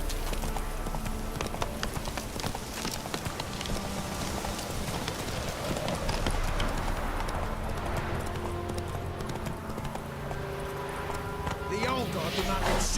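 Roach the horse galloping in The Witcher 3, a steady rapid clip-clop of hooves under a continuous bed of rain-like ambience, with voices talking over it.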